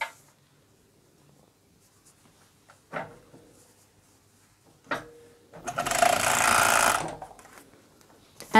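An overlocker (serger) stitches a vest with a brief whirring run of needle and knife near the mic, preceded by scattered clicks and fabric handling in a quiet room.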